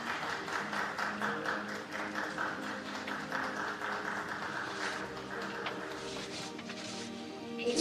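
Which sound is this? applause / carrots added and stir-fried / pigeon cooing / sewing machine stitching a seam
applause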